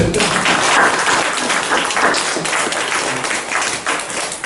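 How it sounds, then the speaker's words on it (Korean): A church congregation at a Sunday service claps for the parents, a dense, even burst of applause that stays loud for several seconds without voices. "우리 부모님들에게 박수를 한번 치고 싶은데"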